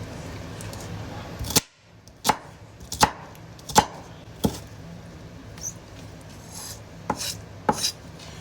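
An onion is chopped on a cutting board in a home kitchen: a series of sharp, separate knife knocks at an uneven pace, near and clear over a faint background hum.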